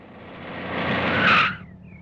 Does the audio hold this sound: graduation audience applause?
no